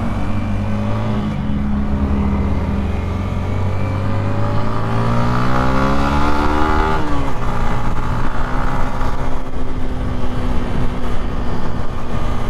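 A motorcycle engine revs up steadily, its pitch climbing and then settling into a loud, sustained roar close by, with its chain lubricated with BSM gear oil.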